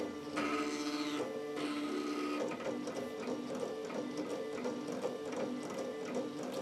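A NEJE DK-8KZ laser engraver runs with a steady, close mechanical whir and buzz, layered with shifting motor tones and faint stepping clicks at an even level throughout, with no voices.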